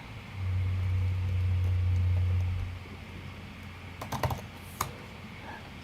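Keys clatter briefly on a computer keyboard, a quick cluster of close clicks followed by a lone tap, after a low steady hum fades out. Nobody speaks.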